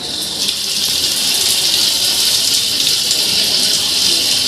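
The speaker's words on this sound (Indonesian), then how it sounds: "Langkah pertama adalah cuci luka yang terbuka tadi dengan air mengalir" Running tap water poured over an open wound during first aid: a steady, loud, hissing stream that flows without a break for a few seconds, with no talking.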